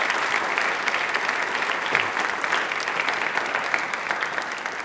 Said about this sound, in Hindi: एक बार प्लीज इनके लिए तालियां जोरों से बजा दीजिए।